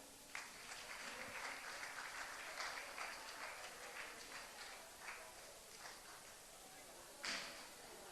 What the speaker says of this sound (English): Please clapping.